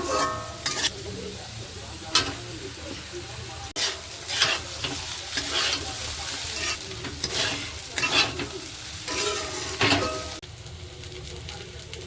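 Peanuts, potato and curry leaves being stir-fried in oil with cumin and dried red chilli, a constant nearby sizzle with regular scraping spatula strokes against the pan, running for about twelve seconds without speech.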